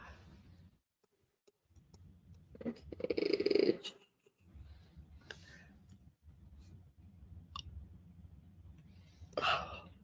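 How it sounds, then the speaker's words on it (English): A person lets out a long, breathy yawn mid-sentence during a relaxed chat, with quiet talking and soft rustles around it. "please pardon my yawning."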